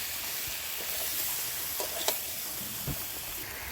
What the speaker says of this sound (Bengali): এবারে সিদ্ধ করে রাখা আলুগুলো দিয়ে দেবো আলুগুলো কষিয়ে নেব